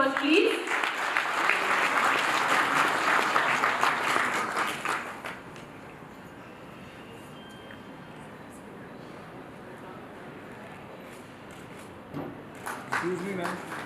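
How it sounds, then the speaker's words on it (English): An awards-ceremony audience claps in a dense burst for about five seconds before it fades, then a brief scatter of claps returns near the end, with some speech around it. "She deserves a louder applause, please."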